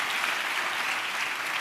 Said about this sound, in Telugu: చప్పట్లు కొడుతూ ప్రభు వారికి స్తోత్రాలు చెప్పారు.